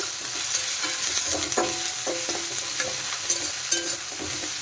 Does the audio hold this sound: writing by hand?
no